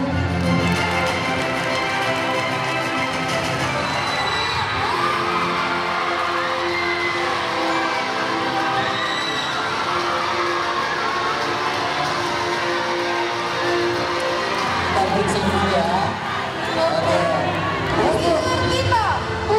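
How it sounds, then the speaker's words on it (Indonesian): Loud, continuous crowd applause and cheering at a grand final pageant event for Bujang Semulen Lebong 2023, a dense sustained wash of clapping and voices that swells slightly near the end. "Tepuk tangan dulu dong."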